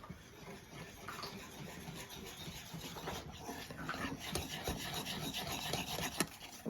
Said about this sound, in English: And then we'll mix this until it combines.